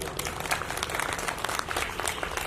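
A crowd at a Hindu religious gathering claps together, dense steady applause filling the space for a couple of seconds.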